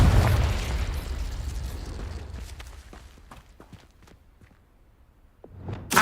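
Confringo fire-blast spell cast in the video game Hogwarts Legacy: a loud burst at the start decaying into rumbling debris, scattered small pops and clicks, then a second sharp blast swelling at the end.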